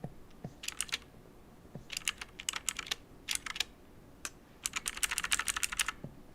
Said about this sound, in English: I'm using the arrow keys and they're very loud on my keyboard